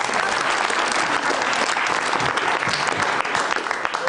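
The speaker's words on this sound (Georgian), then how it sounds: "ტაში." Sustained applause from a studio audience on a Georgian late-night comedy show, a dense steady roar of many hands clapping at close range for the whole stretch with no break.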